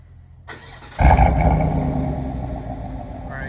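A Chevrolet Silverado 5.3 V8 with a Borla Atak crate muffler cranks briefly on a warm start and catches, then settles into a loud, steady rumbling idle close by.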